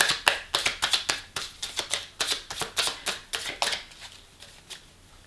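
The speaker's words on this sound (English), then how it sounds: "One more shuffle." Tarot cards being shuffled by hand: a quick run of about twenty crisp riffling snaps in steady rhythm, close and clear, slowing and fading toward the end.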